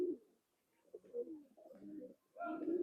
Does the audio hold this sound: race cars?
no